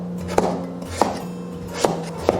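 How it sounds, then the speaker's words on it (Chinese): A knife chops winter melon into small pieces on a board, giving four distinct, close, sharp thuds spaced unevenly over a couple of seconds with a quiet kitchen hum between them. "最后切成小块备用"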